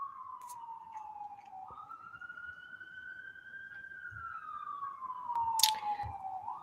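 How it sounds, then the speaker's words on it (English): A single siren wails in a long, slow rising and falling tone, clear and fairly close, with faint background noise and brief clicks. "Ring the sirens."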